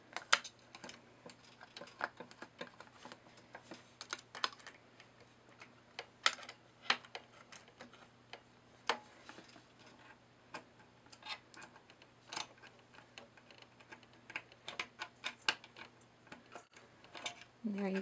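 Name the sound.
screwing screws back into sewing machine plate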